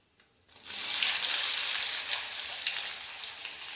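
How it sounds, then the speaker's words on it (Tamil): Chana dal dropped into hot oil bursts into a loud, steady sizzle after a brief quiet start, crackling and spitting close up and continuing without a break. "அப்புறம் கடலைப்பருப்பு போடுறோம்"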